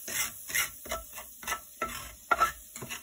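Butter being melted and stirred across the bottom of a Dutch oven after potatoes were removed, a series of soft, regular scraping strokes with a faint sizzle, close and fairly quiet, no talking.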